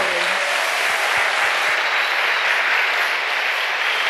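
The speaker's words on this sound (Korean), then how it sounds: "우리 하나님께 영광의 박수를" Congregation at a church leaders' retreat breaking into sustained applause to give glory to God, a broad, even wash of many hands clapping, loud and continuous throughout.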